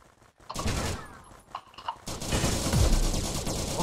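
Gunfire in the multiplayer video game Platoon, a few sharp sniper rifle shots followed by a rolling burst of noisy fire, fairly loud and close, with no talk.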